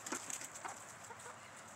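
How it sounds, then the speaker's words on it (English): A small backyard flock of hens and a rooster clucks softly, with faint, scattered calls at a modest distance and no talking. "Hello, chickens."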